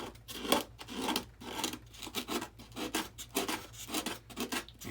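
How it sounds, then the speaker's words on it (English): Rhythmic rubbing strokes of sandpaper or a file smooth an edge on a Freewing SU-35 RC jet model, about a dozen quick, close scraping passes at a fairly quiet level. "Just trying to make a smooth edge."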